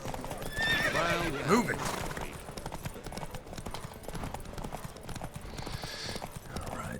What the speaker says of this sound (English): I've only done a couple of the horse races. Riders, ready! Don't spare the horse!